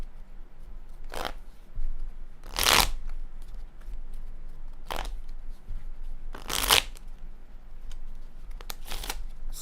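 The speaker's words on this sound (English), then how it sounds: "it's hard to shuffle with Hermes literally laying in my arm" Playing cards are shuffled close up in several quick riffling bursts spaced a few seconds apart, each a crisp flutter over a quiet room.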